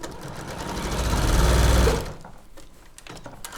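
Sewing machine stitching a Christmas cathedral window quilt project, a loud, rapid mechanical whirr for about two seconds that then stops, leaving quieter room noise.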